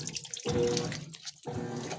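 A GE washing machine fills with water during a rinse cycle, packed with 13 full-size bath towels, giving a close, splashy gush of inflowing water that pauses briefly and resumes, without talk.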